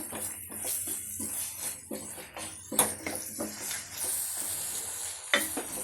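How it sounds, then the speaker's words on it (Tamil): A utensil scrapes and stirs masala for crab fry in a pan in repeated short strokes, with a soft sizzle underneath; fairly quiet and close, no voices. "இதை நல்லா கிளறி விட்டுக்கோங்க."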